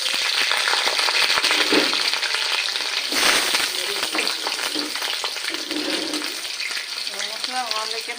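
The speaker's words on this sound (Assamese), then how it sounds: "গৰম হৈ গ'ল, এতিয়া মই আলুখিনি ফ্ৰাই কৰি ল'ম।" Potatoes frying in hot mustard oil in a wok, a loud continuous sizzle with stirring scrapes and clatter, close and steady throughout.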